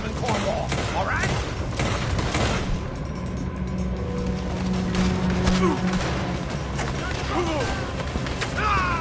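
Gunfire in a Red Dead Redemption 2 shootout: rapid, loud cracks of repeated shots from several guns over dense rumbling, nearly continuous and close, with voices talking over the fight.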